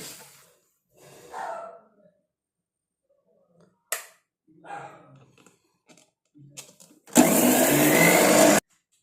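A mixer grinder blending leaves with water whirs loudly for about a second and a half near the end, after quiet breathing, clicks and handling sounds.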